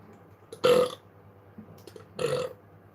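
Two loud, close belches from a man, each a short rough burst, separated by a quiet pause of over a second.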